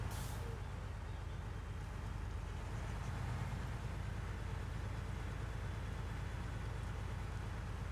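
Heavy P12 truck in Snowrunner labouring through water, a steady low engine drone with constant wet churning and splashing, loud and continuous throughout with no voices.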